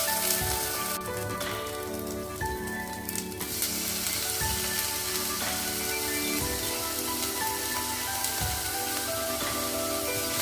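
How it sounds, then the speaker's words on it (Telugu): Ajwain leaves frying in a pan with ginger garlic paste for khichidi, giving a steady close sizzle and crackle throughout with a few brief stirring scrapes, no talk. "ఈ వామాకు వేసి ఒక 1 మినిట్ ఫ్రై చేద్దాం"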